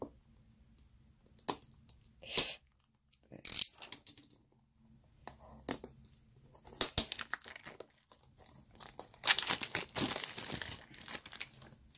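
Crinkling plastic and sharp tearing as an unboxing package is cut open and unwrapped, coming in close, irregular bursts separated by short quiet gaps.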